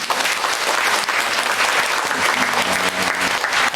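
A church congregation applauds to welcome newly registered members at a Sunday service, dense steady clapping filling the room at full volume throughout, with faint voices underneath.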